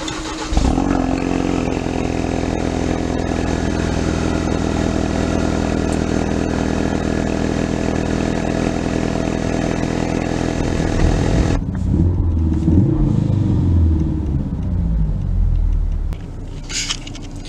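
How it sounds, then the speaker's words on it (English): A Ford Focus RS starts from cold with a sharp engine flare, then settles into a loud, steady, rough idle that runs without a break, close by with no talking. "gonna give you guys a quick cold start really quick, because she's nice and cool"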